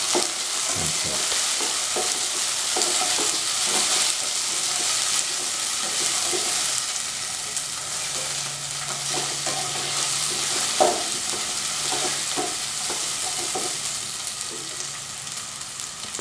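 Tomatoes, garlic and salt frying in a pan, with a continuous close sizzle and scattered scraping and clinking as they are stirred, no voices.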